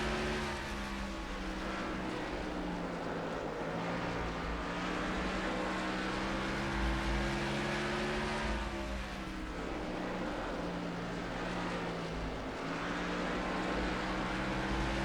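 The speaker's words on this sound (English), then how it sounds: "I really love that throaty engine sound in the cockpit" A deep, throaty race car engine in NASCAR Racing 2003 drones steadily from inside the cockpit, its pitch rising and falling through gear changes with constant road rumble underneath.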